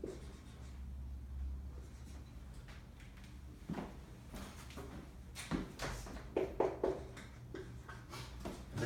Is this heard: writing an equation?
yes